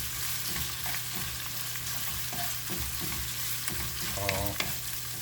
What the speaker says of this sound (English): Make sure the chili paste is